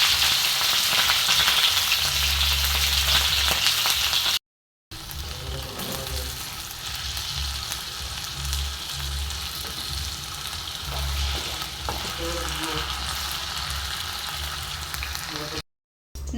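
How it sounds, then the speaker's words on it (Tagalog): Potatoes and carrots frying in a pan, a steady loud sizzle running throughout with a couple of brief dropouts and faint clinks of stirring. "Akin po munang ipiprito yung patatas at saka carrot."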